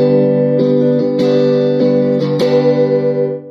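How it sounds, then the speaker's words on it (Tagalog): An electric guitar on its neck pickup rings out sustained, warm chords with a few strummed re-attacks, loud and clean with a slowly fading tail at the end. "Pakinggan natin yung kanyang neck pickup."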